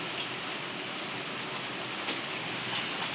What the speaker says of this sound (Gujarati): વરસાદ એટલે બોમ્બાટ ચાલુ છે વરસાદ.